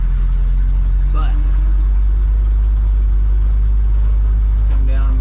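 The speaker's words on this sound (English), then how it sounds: "at least we're in the car going for a cruise" A car engine hums steadily with a heavy low drone from inside the cabin while cruising, with a person talking over it.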